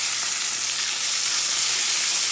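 A steak sears in a hot pan on a stovetop, giving a loud, steady, close sizzle that runs the whole time with no voices over it.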